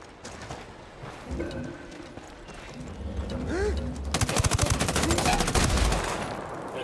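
Enemy gunfire in the video game Ghost Recon Wildlands: scattered shots at first, then loud, rapid automatic bursts that hammer on steadily over background ambience with faint bird chirps.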